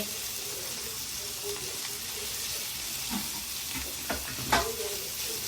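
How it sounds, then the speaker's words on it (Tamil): Chicken pieces sautéed in a pan, a steady low sizzle under occasional scraping stirs, with a couple of sharper clatters toward the end. "இதையும் நல்லா வடிவாக்கி வதக்கிட்டு"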